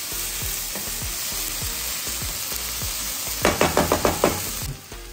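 Onions sautéing in oil with salt for a biryani, a dense close sizzle with regular scraping stirs, then a quick run of sharp spatula knocks on the pan before the sound drops away.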